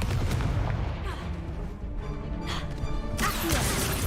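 Spell blasts in the Hogwarts Legacy video game, a dense, loud, continuous barrage of booming impacts and crackling bursts filling the whole stretch without pause.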